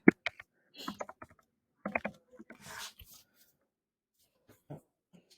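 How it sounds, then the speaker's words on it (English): Typing a search on a computer keyboard, a few quick clusters of sharp plastic key clicks and taps, close and clear, with brief talk mixed in and quiet gaps between bursts. "I'm going to do just a search and see what comes up if I type in the name of our play"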